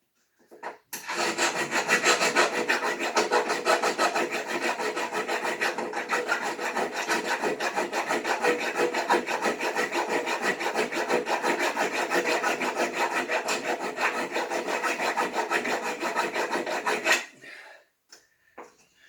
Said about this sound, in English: take a round file.